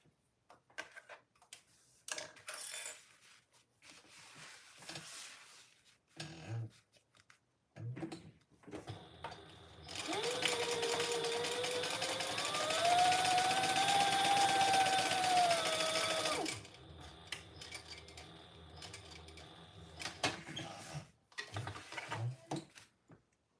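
Top stitching on a fabric bag, a sewing machine runs in one steady buzzing burst of about seven seconds, framed by scattered clicks, taps and handling noises before and after.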